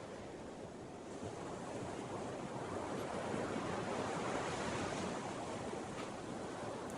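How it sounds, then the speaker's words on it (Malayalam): Sea waves roaring on Cherai beach in Kerala, a broad continuous wash of surf swelling slightly louder midway, with some wind rumble on the microphone and no voices. "ഇനി നമുക്ക് കുറച്ച് നേരം കടലിൻ്റെ ഇരമ്പലൊക്കെ ഒന്ന് ആസ്വദിക്കാം."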